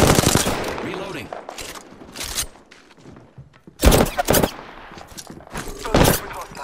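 Enemy gunfire in the Apex Legends battle royale, bursts of automatic fire and single shots, some sharp and near, others quieter, in irregular clusters with brief gaps, under game voice lines.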